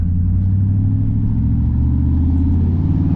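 A truck's exhaust with a newly fitted True Duals catback system rumbles steadily at close range, a deep, loud, continuous idle drone with no talk over it.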